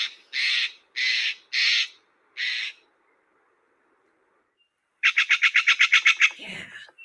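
A Steller's jay sounds four loud, harsh, evenly spaced squawks, then pauses, then bursts into a rapid string of about ten quick rasping notes that trail off, close and clear against silence.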